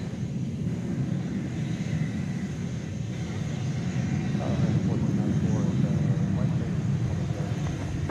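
The UPS 753 heavy cargo jet climbs out from DFW at night, a loud continuous engine roar that builds midway, with a voice talking over it.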